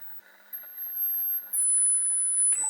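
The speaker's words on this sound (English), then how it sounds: "we will play a special series of test tones, going from highest to lowest ranges" A speaker test sequence plays pure sine tones stepping down from the highest range, steady piercing whines that drop in pitch twice, heard on a DVD player from around ten years back.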